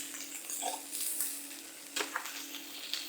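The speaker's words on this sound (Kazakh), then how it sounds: "Жақсылап қуырып, чеснокпен араластырып аламыз." Ribeye steak frying with garlic in a hot pan, a steady broad sizzle with a few brief sharper crackles and pops, close and moderately loud, with no talking.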